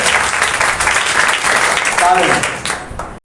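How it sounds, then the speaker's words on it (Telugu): A church congregation claps together during a Telugu sermon, producing a dense, sustained wash of applause that fills the space, with a preacher's voice briefly heard over it. "నమ్మినవాడు ఒకసారి చప్పట్లు కొట్టరా"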